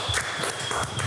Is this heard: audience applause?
yes